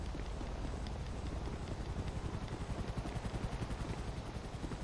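A helicopter in GTA 5 Online gives a steady, rhythmic rotor thumping with a pulsing beat, fairly loud and continuous throughout, with no talk over it.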